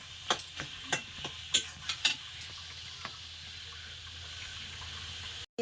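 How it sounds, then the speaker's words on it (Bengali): Leafy greens and a vegetable curry being sautéed and stirred together in a pan in a village kitchen, with a steady low sizzle and a series of sharp scraping stirs and taps early on, then quieter frying, no talking. "ওদিকে তরকারিটা কষাই হচ্ছে"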